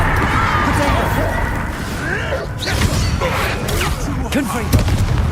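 Spell explosions from Bombarda and other combat magic in the Hogwarts Legacy video game: dense, continuous rumbling blasts and whooshes with sharper bangs around the middle and near the end, loud and close throughout.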